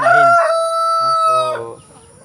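A loud rooster crows up close in one long, drawn-out call, with hens clucking softly underneath before it trails off, in a rural backyard.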